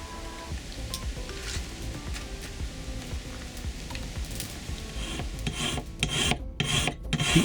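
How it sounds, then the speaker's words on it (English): A forged iron tool blank with an octagonal profile is draw filed by hand, giving repeated rough rasping strokes in a steady rhythm, close and moderately loud, with no talking. "The 8 surfaces are then draw filed to bring up the cutting edges"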